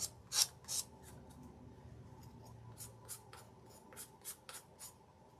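Scissors snip and trim around a heart shape while making a DIY angel ornament, a quiet series of short crisp cuts, a few louder snips early then lighter irregular clicks.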